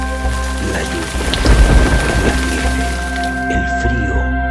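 Heavy rain pours alongside deep rolling thunder, a loud, dense downpour with a low rumble swelling in the middle, over a sustained musical drone, then tapering off.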